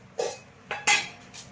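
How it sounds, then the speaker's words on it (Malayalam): A cooking pot for kappa biriyani set down on a lit stove, a few sharp metallic clanks and knocks of cookware spaced out over a quiet background. "പാത്രം അടുത്തേക്ക് വെക്കാം"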